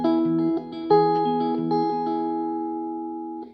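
Guitar picking pattern for the verse of a song, thumb on the chord roots, clear plucked notes ringing over each other at moderate volume, played alone without talk.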